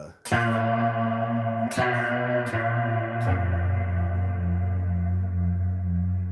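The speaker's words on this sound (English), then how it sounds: "it's a really nice reverb" Bass guitar played through reverb and Joyo chorus pedals: several plucked notes ring out with long, lush sustain and a wavering shimmer, each new attack sharp before a smooth, echoing decay, loud and alone.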